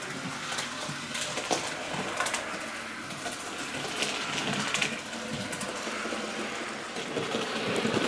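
Hornby A2/3 Chamossaire model steam locomotive running along track, a steady close whirring rumble with faint rail clicks, continuous through the stretch without talk.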